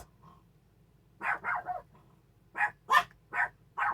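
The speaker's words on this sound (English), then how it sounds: "There's my dogs." Several sharp dog barks come in two short bursts, a few at a time, moderately close against a quiet background in a park.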